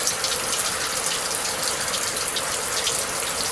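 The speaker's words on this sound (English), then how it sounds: "Pumps the water straight up here into a hose and into a fitting on the outside of the bathroom." Water from a well pump runs through a hose into an outdoor shower head fitted on a PVC pipe outside a bathroom, a steady, fairly loud hiss of spray that holds even for the whole stretch.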